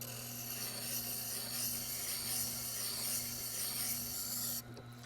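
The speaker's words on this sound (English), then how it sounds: "the stone grinding this way into the chisel" A Tormek sharpening stone grinds a timber framing chisel, a soft continuous rasping rub over a low motor hum that stops abruptly near the end.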